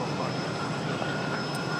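A JetBlue jet airliner arriving at Raleigh Durham airport gives a steady, broad engine roar, moderately distant and continuous with no talk over it.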